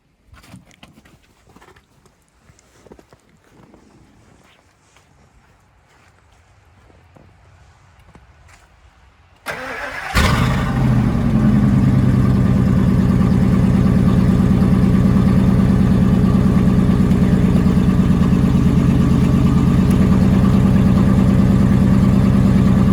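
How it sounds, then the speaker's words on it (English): A car engine, with an egg treatment in a leaking radiator, cranks and catches after a stretch of quiet rustling, then settles into a loud, steady, close idle that runs to the end. "Let's start her up."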